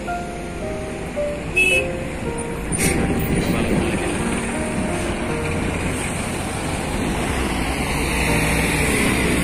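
A bus passes along a road near an airport in Jeddah, Saudi Arabia, heard as a steady broadband traffic rumble with a brief horn-like tone and rising roar, alone without talk.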